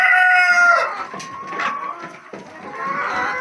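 Embrapa 051 laying hens in a flock of about a hundred cluck and squawk loudly and close by, overlapping calls with a crow-like drawn-out cry at the start, continuing without talk.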